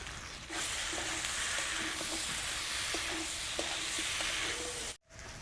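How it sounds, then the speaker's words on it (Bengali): Boiled potatoes and spices, with turmeric powder, sautéed in a pan, a steady close hiss of frying with faint intermittent scraping taps of a spatula, continuous and without talk, ending in a brief cut. "এই আলু আর মশলা বেশ কিছুক্ষণ কষিয়ে নেব"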